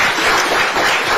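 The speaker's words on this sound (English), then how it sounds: "A round of applause." Dense applause from a press audience after a president's remarks, a continuous close wash of clapping hands with no speech.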